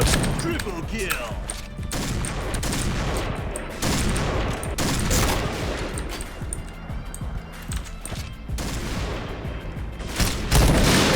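Sniper rifle fire in a video game gives dense, continuous bursts of gunfire and booms, loud and busy throughout, while someone talks excitedly over it.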